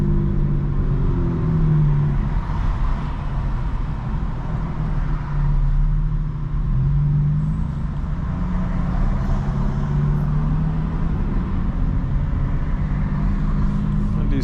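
Low, steady engine and road rumble from a 2025 BMW M4 Competition cruising at night, a constant drone with slight swells, heard from inside the cabin.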